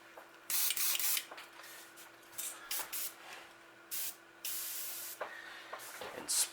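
Golden titanium white base coat paint sprayed head-on over a 3D stencil in several short bursts, each hiss loud and close, with quiet gaps between.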